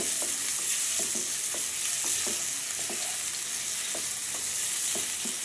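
Onions frying in oil for chicken curry hiss steadily with a bright sizzle, punctuated by regular spatula scrapes and taps against the pan.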